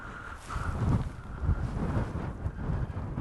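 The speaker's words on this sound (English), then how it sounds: "it is far too windy today" Gusty wind buffets the microphone in low rumbling bursts, loud and uneven, with no voices, on a hike across the Coniston Fells.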